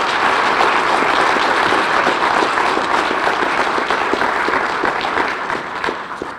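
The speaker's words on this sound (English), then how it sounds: "how about a nice round of applause for all of our nominees tonight?" An audience at an awards ceremony gives the nominees a full round of applause, dense and steady clapping that carries for several seconds before starting to thin out at the end.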